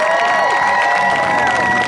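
A crowd at an indoor motorcycle stunt show cheers and applauds loudly and continuously, with whoops and shouts mixed into the roar.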